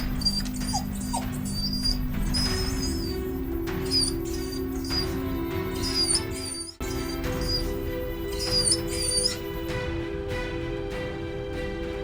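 Several dogs at a house yelp, whimper and give high-pitched whiny barks in repeated bursts, fairly close, over a constant low background hum.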